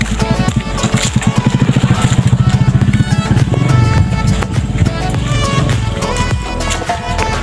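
A motorcycle rides along near a lagoon river, its engine a loud, steady throbbing drone with a rapid pulsing rhythm that swells and eases slightly, heard close and continuous with no talk.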